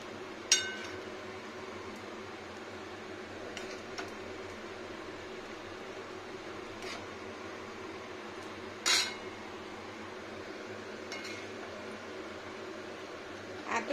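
A ladle scoops green plantain curry out of a heavy kadai into a bowl, making a few sparse, faint metallic clinks spaced seconds apart over a low steady fan hum.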